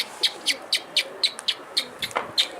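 An escaped pet bird calls in a rapid, even series of about ten sharp, high chirps, each roughly a quarter second apart, fairly close and clear over quiet background.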